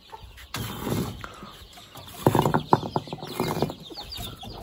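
A black hen sitting on eggs clucks nearby in short, uneven bursts of low clucking over a quiet background.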